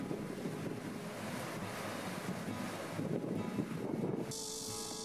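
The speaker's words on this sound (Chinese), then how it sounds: "风大的时候，这里的海浪异常的汹涌。" Heavy sea surf pounds at a huge rock cave on Pingtan Island, Fujian, driven by strong wind; a continuous loud roar of breaking waves with gusty wind buffeting the microphone, swelling briefly near the end.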